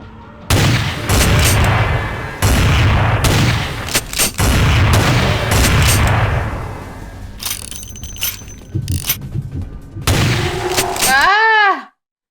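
Gunfire in Vampire: The Masquerade Bloodlines, with the Final Nights mod: loud, heavy shots and booming bursts repeat in clusters across several seconds, with a few quieter gaps, ending in a sharp cutoff and a brief whooping tone.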